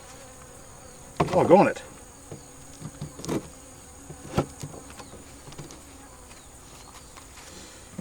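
Honey bees buzzing at a hive during a queen install, a steady insect hum with a brief louder burst near the start and scattered knocks; a voice briefly exclaims.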